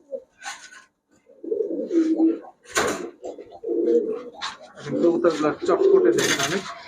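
Several Pakistani high-flyer Giribaj pigeons at a pigeon seller's coo in repeated low, rolling phrases close by, with some rustling and scraping sounds between the calls.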